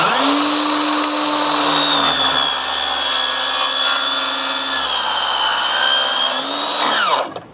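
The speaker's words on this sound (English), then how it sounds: "on our miter saw, we have a non-ferrous Diablo blade" A miter saw with a Diablo non-ferrous blade cuts through aluminum railing, its loud motor whine holding steady through the cut and then winding down at the end, heard alone and up close.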